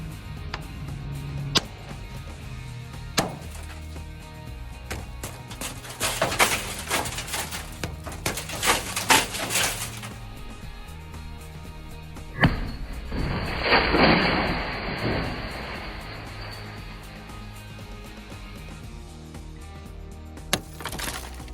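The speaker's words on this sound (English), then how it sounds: "as long as you have enough force behind it, you'll see that I was able to break the glass every time" A prototype rescue tool strikes a window, with sharp glass-breaking cracks and bursts of shattering and crunching in two main clusters, plus isolated taps and a steady hiss partway through.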